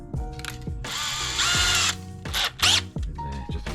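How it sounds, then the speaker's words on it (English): Power drill boring pilot holes through wooden boards during a workshop shed build, several short whirring bursts with ratcheting clicks and knocks between them, close and loud with no talking. "get a drill bit and put a couple of pilot holes through there first"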